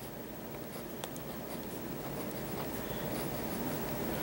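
A Jinhao X750 fountain pen with a medium nib scratches softly across paper in a quiet room, a faint continuous writing sound with a few small taps.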